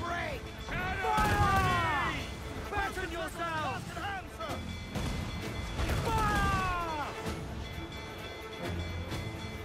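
Ship cannons booming in a naval battle in Assassin's Creed IV: Black Flag, heavy blasts and crashes at close range mixed with shouting voices and busy game noise.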